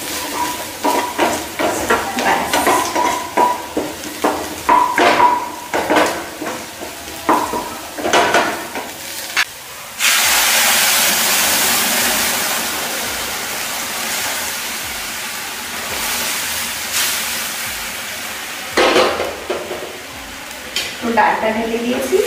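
Onions frying in a pan, stirred with a utensil in repeated scraping strokes against the metal, then a broad, loud sizzling wash before stirring resumes, all close up.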